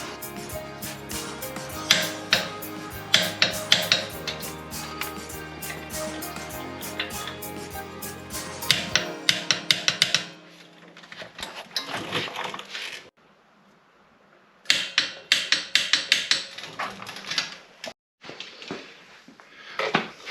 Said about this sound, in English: I'll get the torque ready now, the torque wrench, and we'll get that torqued up